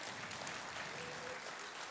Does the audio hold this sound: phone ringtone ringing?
no